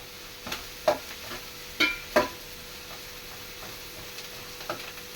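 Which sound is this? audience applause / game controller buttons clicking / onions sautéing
onions sautéing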